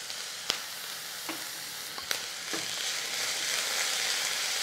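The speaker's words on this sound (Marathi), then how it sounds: "एक मिनिटभर सगळं परतायचं आहे." Chopped vegetables and a small tomato sauté in a pan, a soft steady sizzle with a few light clinks of a spoon stirring, close and quiet, no voices.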